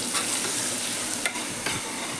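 Chickpea masala being stirred in a pan, a steady loud sizzle of frying with a few scraping spoon strokes, no talking.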